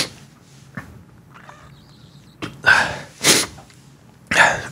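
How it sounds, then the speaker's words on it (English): A person sneezes in short bursts, two or three quick sharp sneezes close to the mic with quiet breaths and small shuffles between them. "after some brief sneezes right now"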